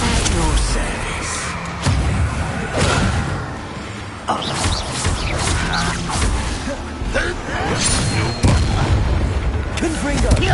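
Blasting spells like Confringo go off repeatedly in loud Hogwarts Legacy combat, with heavy booms and impacts piling up over clashing effects and shouted voices.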